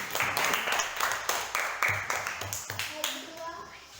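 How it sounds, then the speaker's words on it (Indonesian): A classroom of students claps for the first group, a short scattered round of hand claps, fairly quiet, with voices talking over it. "Tepuk tangan dulu untuk kelompok 1"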